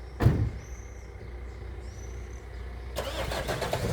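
An Oleo-Mac G44 PK lawn mower with a new four-stroke Emak K605 OHV engine gives a thump, idles low, then its engine starts and runs loudly near the end.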